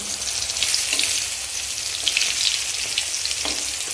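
Sliced pointed gourd fries in a pan of oil that has darkened, giving a steady, close sizzling crackle with small pops throughout and no talking.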